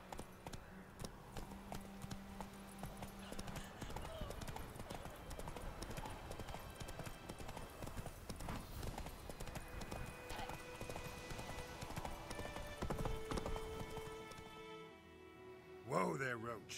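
Geralt's horse Roach clip-clops in a steady trotting rhythm across the game world of The Witcher 3, hoofbeats running throughout under music and occasional dialogue, with a brief whinny near the end.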